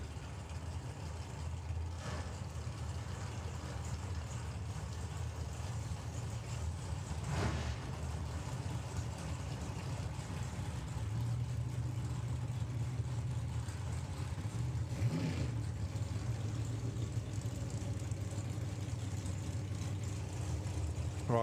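A Camaro drag racing car at a drag strip during a nationals event, heard as a steady low engine rumble, like idling, that holds under broad outdoor ambience throughout, with no voices.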